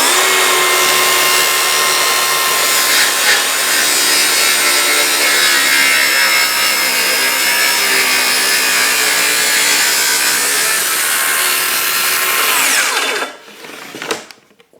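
A Festool HK55 circular saw cuts through thick rough sawn timber, a loud steady whine-and-rasp of the blade biting wood for about thirteen seconds before the cut stops and the motor spins down.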